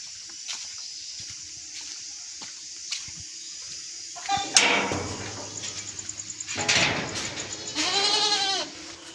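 Goats in a village yard eat fodder at dawn, giving several clear, close bleats amid light knocking and rustling, with a faint low hum beneath.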